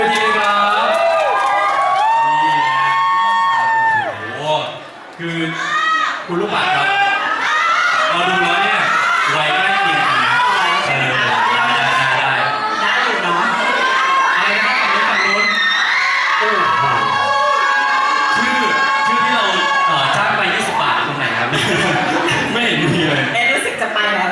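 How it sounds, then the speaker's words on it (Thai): At a New Year party stage event, a crowd screams, whoops and cheers shrilly to welcome performers, with laughter mixed in and an amplified host talking over the noise. "ผมขอเสียงกรี๊ดดังๆนะครับต้อนรับ"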